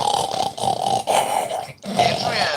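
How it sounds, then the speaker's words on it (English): A puppy growls close by in a rough, rumbling snarl that keeps going with only a brief pause before it resumes. "Oh no, puppy!"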